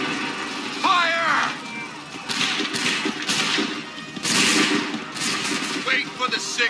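Musket volleys crackle in Assassin's Creed 3 during the 1775 Lexington and Bunker Hill battles, with several loud broadband bursts arriving every second or so over a battlefield din while a voice talks nearby.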